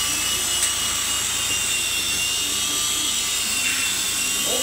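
A single-rotor RAH-66 Comanche RC helicopter flies nearby with a continuous high-pitched electric whine and rotor buzz, steady in level for the whole stretch.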